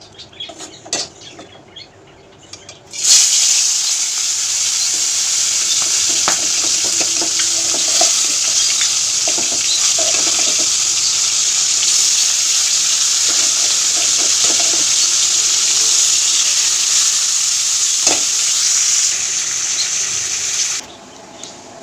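Bottle gourd greens (lau shaak) fry in a pan, starting with a few quiet knocks and then a loud, steady hiss of sizzling that holds for nearly twenty seconds before stopping abruptly, with no talking.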